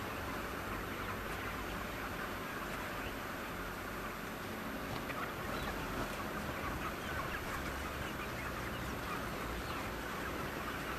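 Constant, loud mechanical din of a poultry processing plant where chickens are vacuumed into a machine and sorted into baskets, with many chickens clucking and squawking throughout, no talking.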